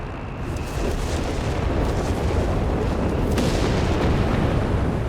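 Combat din from Company of Heroes 3, where a 17-pounder anti-tank gun fires amid a dense, continuous wash of booming artillery and explosions at loud level.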